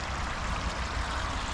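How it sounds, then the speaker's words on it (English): Water from a newly built top-section garden waterfall falls steadily over stones, a continuous close broadband rush and splash with no pauses and no voices. "I started to build this top section, this waterfall"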